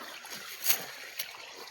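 Irrigation water trickles and gurgles through a field channel, a soft continuous flow with two brief splashy surges partway through.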